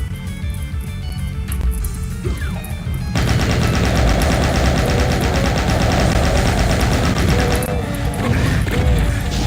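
Rapid bursts of gunfire and crashing impacts from Doom in the Canyon map ring out loud and continuous, with dense sustained shooting, hits and mechanical clatter that intensify after a brief quieter start.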